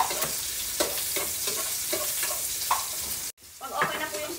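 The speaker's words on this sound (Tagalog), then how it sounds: "gisa tayo ng bawang. Sunod na natin yung sibuyas." Garlic and onion sauté in a hot pan with a steady, bright, close sizzle and rhythmic stirring scrapes, briefly cutting out near the end before the frying hiss resumes.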